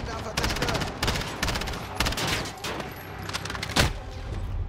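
Rapid bursts of gunfire from Call of Duty Modern Warfare crackle in dense volleys, with a sharper, louder shot near the end amid game background noise and some voices.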